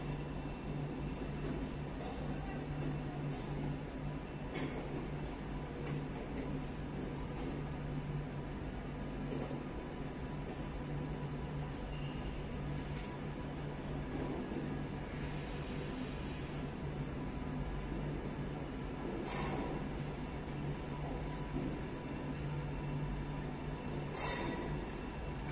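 A train rolls over the switches at Warsaw Central station, a steady heavy rumble with occasional clanks and squeals from the wheels, close and continuous throughout.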